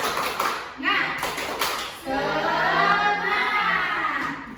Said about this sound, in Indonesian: mari kita tepuk semangat dulu biar tambah semangat